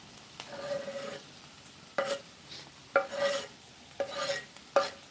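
Onion frying in a pan for a thick frittata, a soft sizzle broken by a scraping stir roughly once a second, fairly quiet and close, with no talking.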